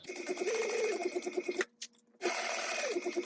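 A sewing machine stitches a card slot at a fast, steady buzzing rhythm, stops briefly for about half a second, then runs again at the same even pace.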